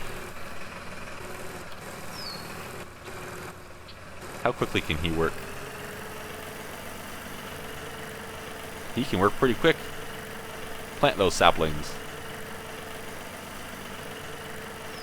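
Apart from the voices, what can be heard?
tractor engine running in Farm Expert 2017 video game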